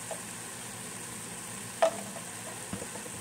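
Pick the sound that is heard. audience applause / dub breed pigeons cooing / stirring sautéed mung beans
stirring sautéed mung beans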